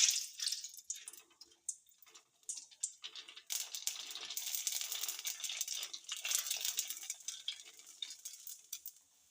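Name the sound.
frying pani puri in hot oil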